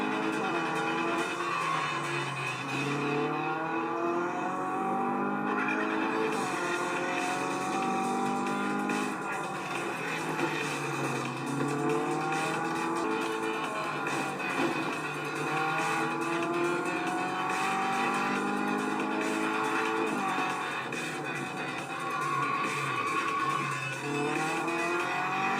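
Race cars in the mobile game Real Racing 3 roar continuously, with engine pitch rising and falling through gear changes and brief tire squeals under steady loud game audio.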